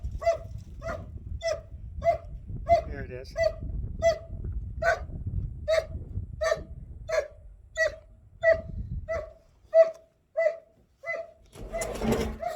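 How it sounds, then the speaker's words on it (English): A dog barks again and again in a steady series of sharp, fairly loud yelps close by, with a brief spoken remark at the end. "Let's see if we can't filter out some of that dog noise."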